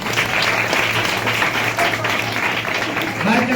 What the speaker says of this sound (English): So clap for them and give speech.